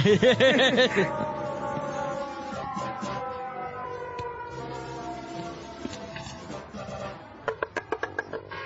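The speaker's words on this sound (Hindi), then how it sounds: "सब ठीक है वाला सायरन" An all-clear siren wails, rising and falling in long, steady tones, then fades beneath music-like swells and a few sharp rhythmic hits near the end.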